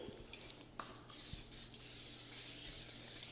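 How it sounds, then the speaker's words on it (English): A short burst of cooking spray hisses onto a baking dish, then a longer steady spray continues to the end, close and fairly quiet, with a faint click partway through. "I'm going to spray it lightly"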